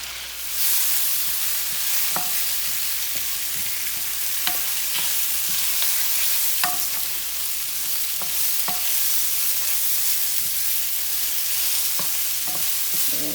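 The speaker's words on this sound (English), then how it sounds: "So I'm gonna let these fry up a little." Seasoned onions fry in a pan with a bright, continuous sizzle, broken by scattered clinks and scrapes of a utensil stirring them, close and loud with no talk.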